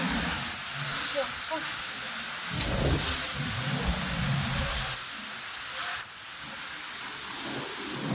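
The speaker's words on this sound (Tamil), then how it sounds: "சரியான மழை" Heavy rain pours down in Erode while gusty wind blows across an open rooftop terrace, a steady broadband wash that swells and dips with the gusts, with a voice speaking briefly over it.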